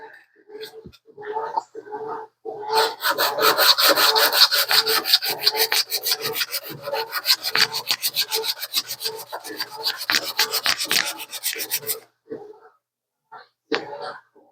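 Guitar nut being filed down during a Def Leppard guitar repair, a long stretch of steady rhythmic rasping strokes, loud and close, with brief scrapes and a throat clear before and after.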